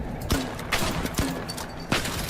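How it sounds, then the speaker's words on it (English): Sniper rifle shots in a shooting video game, a few sharp, moderately quiet cracks spaced apart over a low background of game sound. "Autistic Rizzler just got fucking sniped"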